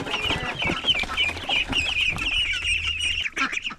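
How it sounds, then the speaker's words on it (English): A young chick among backyard garden poultry clucks and chirps continuously at close range, a busy run of small calls with faint rustling beneath and no talk. "That one little chick just hangs out with the ducks"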